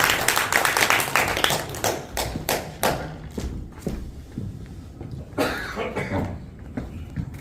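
Audience applause at an education group's officers' training meeting as the next speaker is called up, scattered claps and thumps loud at first, then thinning into sparse claps and a few coughs.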